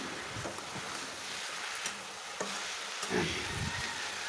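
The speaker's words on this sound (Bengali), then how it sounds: "এই দেখো আমি ভেজে নিচ্ছি আর একটু ভালোভাবে" Potatoes with turmeric frying in a pan, a steady close sizzle with occasional stirring scrapes and soft bumps throughout.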